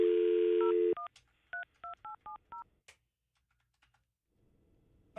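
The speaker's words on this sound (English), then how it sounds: "I did dial my own number." A telephone dial tone cuts off into a quick run of six or seven distinct DTMF keypad beeps as a phone number is dialed, clear and close, followed by near silence.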